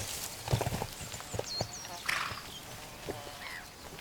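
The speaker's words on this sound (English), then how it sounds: "Her most famous inhabitants are wild horses." Wild horses roam the Giara di Gesturi plateau in Sardinia, with scattered hoof clip-clops and a whinny at middle distance, while a voice talks over them and faint birds call now and then.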